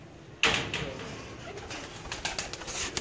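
Breeder pigeons coo and call amid a busy loft, a sudden burst near the start followed by repeated soft calls and fluttering rustles over steady background noise.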